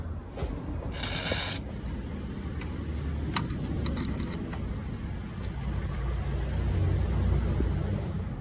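A spray gun lays a colour coat on the sill of a BMW E46 in a quiet workshop, one short loud hissing burst near the start, then faint ticks and low background hum.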